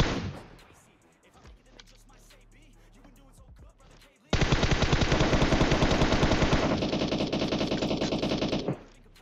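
A rapid, sustained burst of automatic gunfire in PUBG Mobile erupts after a few seconds of quieter game ambience and keeps rattling loudly before cutting off.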